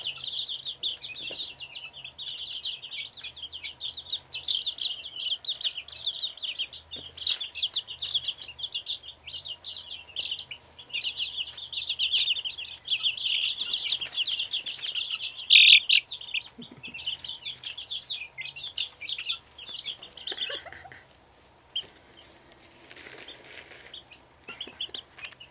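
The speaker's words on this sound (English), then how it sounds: "It's just me sitting with my first baby chick flock." A flock of baby chicks peeps and chirps constantly, high and close, with soft clucks and some rustling, busy for about twenty seconds and then thinning out near the end.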